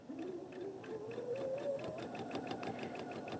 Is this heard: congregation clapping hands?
no